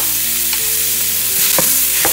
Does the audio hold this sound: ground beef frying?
yes